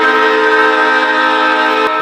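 A Leslie RS3L train horn blasts loud and close in one sustained, rich chord that holds steady for about two seconds before cutting off abruptly.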